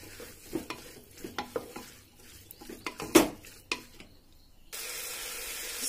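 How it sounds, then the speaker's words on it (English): A spoon stirs watermelon rind sabzi in a hot pan, giving a run of close scraping and clinking strokes over a light sizzle, then a steady louder frying hiss near the end. "I'm going to give this a stir."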